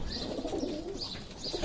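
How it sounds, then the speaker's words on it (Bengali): A white pigeon coos in low, soft, repeated throaty calls close by, rolling on steadily without pause. "হঠাৎ কোথা থেকে উড়ে এলো এক সাদা রঙের পায়রা।"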